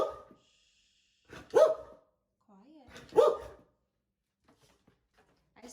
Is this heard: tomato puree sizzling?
no